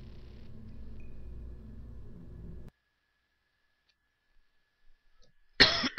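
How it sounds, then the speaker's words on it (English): A single sharp cough bursts out loud and close at the end, following a low rumbling hum that drops into near silence. "Sorry about that cough there."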